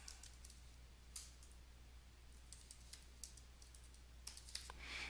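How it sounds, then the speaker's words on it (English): Typing on a computer keyboard, sparse quiet clicks and key taps in irregular bursts over a faint steady hum, a few louder strokes near the end, recorded close and alone. "go ahead and type a name for the list"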